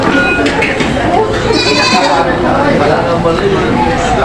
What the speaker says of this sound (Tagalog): Yan, mga kinakarga na po ito mga kambing dito.